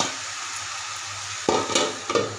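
Vegetarian cabbage ghonto is stirred in a pan over a low flame, with a steady soft sizzle and a few louder scraping stirs near the end.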